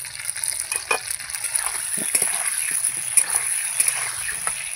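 Potatoes frying in a pan on a home stove, with steady soft sizzling, occasional spatters and stirring clinks, moderately close and without talk.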